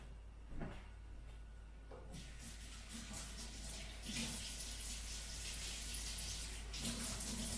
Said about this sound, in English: I'm just going to quickly wash my hands